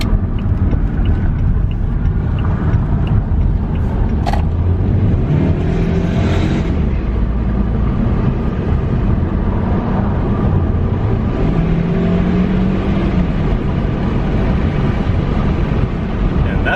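Saab 9-5 Aero with a Maptun Stage 1 tune accelerating hard, a loud, steady engine drone rising in pitch through gears from inside the cabin, with no talk.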